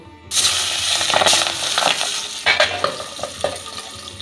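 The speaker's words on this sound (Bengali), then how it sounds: "মাছগুলো ভেজে নেব" Pabda fish frying in hot mustard oil sprinkled with a little salt in a kadai: a steady loud sizzle and hiss starts suddenly and continues throughout, with scraping stir and clinking bursts from the pan.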